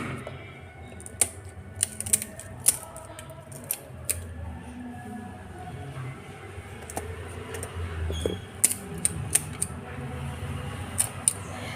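A knife cuts through the tail of a fish, producing sharp, scattered snips and clicks over a low, steady background, fairly faint and close, with no talking.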